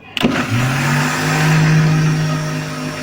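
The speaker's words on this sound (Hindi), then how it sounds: "इसके बाद ग्राइंडर का आपने जो जग है इसका कवर लगा देना है और इसको चलाना है आपने" An electric grinder jug starts up and runs steadily while blending mayonnaise, a loud, close motor whine that rises in pitch after the start and then holds a constant drone.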